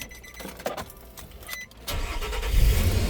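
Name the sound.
2008 Nissan Pathfinder engine starting and running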